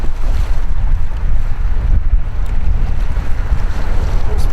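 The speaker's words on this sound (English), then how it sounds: "It was nice and calm early this morning, but right now it is ripping." Strong wind buffets a microphone on a small fishing boat out on open water, a steady loud roar with rushing gusts and some water wash underneath, and no voices.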